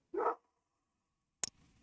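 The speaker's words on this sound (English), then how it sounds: "that's my dog" A pet dog gives a single short bark indoors, close and clear, followed by a sharp click and quiet.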